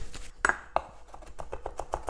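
A knife chopping onion and garlic on a cutting board, a series of crisp evenly spaced taps at close range, with a couple of louder clinks early on and no talking.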